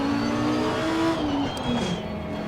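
The Grasser racing car's engine in Assetto Corsa Competizione drones loudly and continuously, its pitch rising and then dropping as it shifts under acceleration, with no speech.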